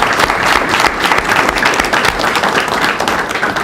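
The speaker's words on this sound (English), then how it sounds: "So, one, a round of applause for them." Audience applause during a live stream, loud, close and continuous, a dense crowd of hands clapping steadily throughout.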